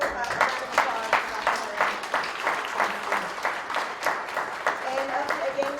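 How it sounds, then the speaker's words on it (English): Audience applause at a cannabis education event, a room of people clapping steadily at moderate volume with a somewhat sparse, rhythmic texture, with voices faintly audible underneath. "Can we get a round of applause?"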